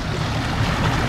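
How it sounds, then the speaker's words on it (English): A steady wash of rushing water at a garden site in Cass City, Michigan fills the short moment, a constant broadband flow without pauses. "you can hear the water behind me."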